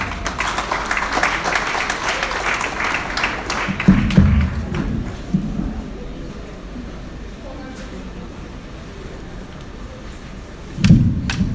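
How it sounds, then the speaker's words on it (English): Applause from an audience at a celebration event in an event centre, a broad dense clatter through the first seconds that fades beneath murmuring voices, then a short louder burst near the end. "Let's do another round of applause for His Excellency."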